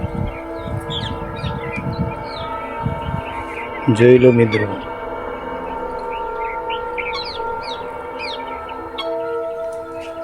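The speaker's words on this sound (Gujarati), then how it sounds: "પક્ષીઓ પણ કેવા કલરવ કરી રહ્યા છે દેખો." Birds chirping around a village lake: scattered short, bright calls and tweets at moderate distance over a low background hum, with a brief spoken voice in the middle.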